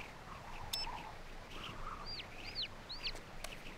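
Cartoon flamingos let out a series of short, high squawks and chirps, several brief calls scattered over a soft hissing background, light and fairly close.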